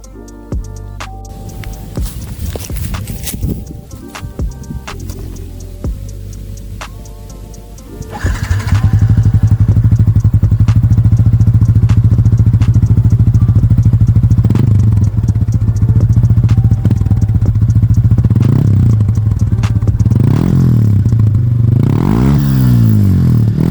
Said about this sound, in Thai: เดี๋ยวเรามาฟังเสียงท่อแดงสาย4พร้อมกับ รถที่ได้มีการจูน